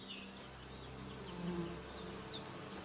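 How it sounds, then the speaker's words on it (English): Bees buzz steadily near a beehive in the medieval game Kingdom Come: Deliverance 2, a low continuous drone with a few higher whining passes drifting close and away over faint ambient sound. "Oh, there was a bee! Is there a beehive?"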